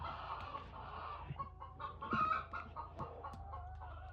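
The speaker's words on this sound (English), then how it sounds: "You see where the chickens they come out." Chickens clucking near their coop, a run of soft close clucks and short murmuring calls over low background hum, fairly quiet with one brief louder call in the middle.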